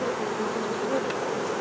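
Honeybees buzzing around an opened beehive, a dense, steady drone of many insects close by, continuous and fairly soft, with no talking.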